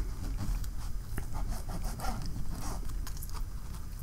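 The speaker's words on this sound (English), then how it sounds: "Let's dig into this calzone. Let me show you what's inside here, right here. Let's cut this open." A knife and fork cut open a baked calzone, giving close, steady scraping and crackling crust sounds with soft rubbing, continuous and fairly loud, no talking.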